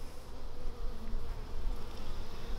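A honeybee colony with laying worker bees, no queen present, gives off a dense, continuous buzzing hum from the open hive, steady and close with no voices.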